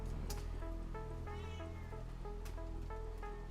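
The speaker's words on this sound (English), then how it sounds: "She's the cutest tuxedo cat that has ever lived." A tuxedo cat meows repeatedly indoors, several short close calls in a row over a steady low hum.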